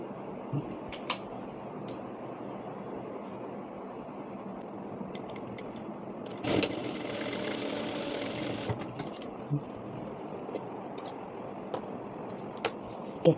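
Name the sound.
sewing machine stitching a straight seam on fabric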